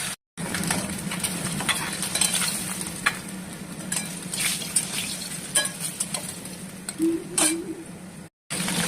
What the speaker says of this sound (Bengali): প্রথমে তেল দিয়ে মাছগুলো উল্টে পিল্টে ভেজে নেবো।